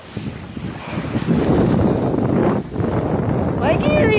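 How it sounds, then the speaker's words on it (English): Large waves surge against the Lake Erie shore during a fishing trip, a loud continuous wash of surf with heavy wind buffeting the microphone throughout. "the waves are big. Big boy waves."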